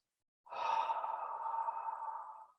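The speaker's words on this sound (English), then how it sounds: "Breathing out." A long, soft exhale during a qigong lung-strengthening exercise, a single smooth breath out lasting about two seconds, close and clear against silence.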